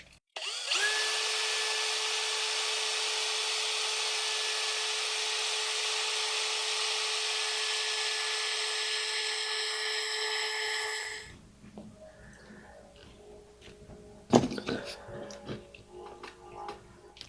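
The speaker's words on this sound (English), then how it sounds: "Well, I'll drill a hole here." A power drill whines steadily for about eleven seconds while drilling a hole in a 1978 TOMY Merry-Go-Copter toy, then stops, followed by quieter handling clatter and a sharp knock.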